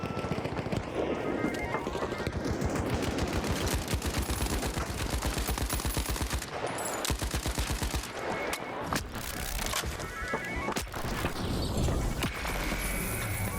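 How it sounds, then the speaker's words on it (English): Video game gunfire crackles in dense, repeated bursts of rapid shots with short gaps between volleys, moderately loud throughout and without any talking. "Multiple shots through the trees, huh?"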